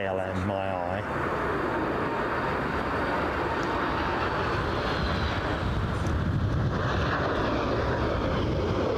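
A KLM airliner at Brussels Airport (Zaventem) gives off a steady, loud jet engine roar that fills the whole stretch, with a brief voice near the start.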